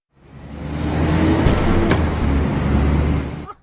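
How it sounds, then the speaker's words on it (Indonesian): A car passes by outside beside a restaurant, a broad rumbling whoosh that swells in the first second, holds steady and fairly loud, then fades away near the end, with no other sounds. "Suara dari mobil yang melintas"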